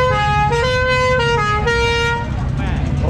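Cars at a Sunday Ride & Drive street meet on Khao San Road, with loud repeated horn toots in stepped pitches over a rumbling crowd and traffic, as voices chatter nearby.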